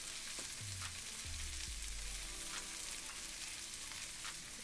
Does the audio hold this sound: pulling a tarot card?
no